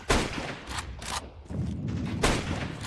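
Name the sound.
flashbang grenade thrown in a video game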